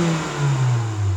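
A Toyota MR2 AW11 engine that has been sitting revs roughly, a close, loud mid-pitched drone rising and wavering unevenly over about a second, with no talk.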